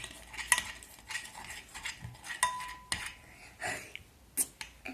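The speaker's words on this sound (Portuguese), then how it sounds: "Vou misturar muito." A utensil scrapes and clicks against a bowl while a thick yellow slime mixture is stirred, giving short, uneven strokes that repeat close up with no talking.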